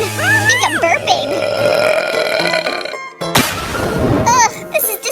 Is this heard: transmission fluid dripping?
no